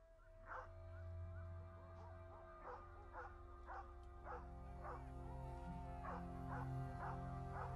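Several hunting dogs bark repeatedly during a deer hunt in a rough, uneven rhythm, faint and far off, over a low steady hum.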